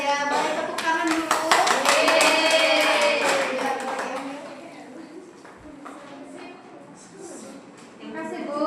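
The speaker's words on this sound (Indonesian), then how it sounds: "Boleh tepuk tangan dulu." A class group claps in quick, scattered rhythm with voices chattering over it, the applause fading out after a few seconds before a few more claps.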